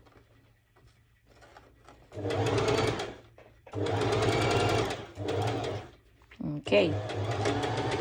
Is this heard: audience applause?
no